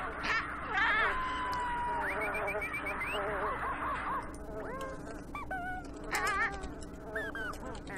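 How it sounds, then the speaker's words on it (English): A parrot squawks in The Sims Online game, a series of shrill, warbling calls repeated several times over a steady background hum, with no talk over them. "I hear a parrot!"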